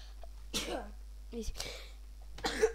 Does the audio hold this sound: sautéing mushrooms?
no